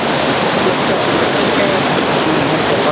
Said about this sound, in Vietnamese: Con suối này nguy hiểm lắm.